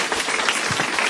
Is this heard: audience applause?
yes